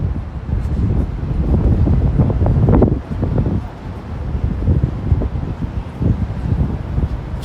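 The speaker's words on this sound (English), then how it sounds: "I feel like I'm walking straight into some wind right now." Wind gusts blow steadily across a downtown city street at night, a loud, continuous low rumble and buffeting against the microphone with swelling and easing gusts.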